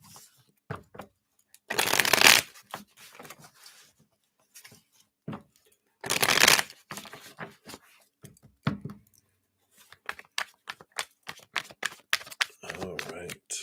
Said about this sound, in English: I'm just going to use a shuffle here.